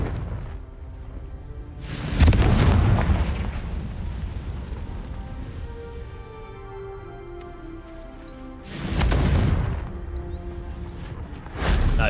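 Confringo spell explosions in the Hogwarts Legacy video game, two loud booming blasts with a rumbling tail, followed by a third burst at the end.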